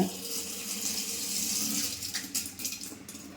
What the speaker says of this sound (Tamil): தண்ணி நல்லா ஃபோர்ஸாக வந்துருச்சு.